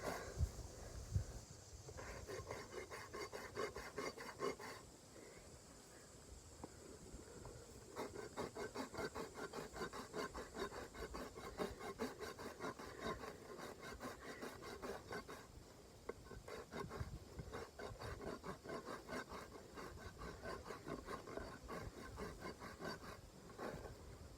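A sharp rasp files the side of a horse's hoof with a steady, rhythmic scraping, close and fairly quiet, in repeated strokes with brief pauses between runs.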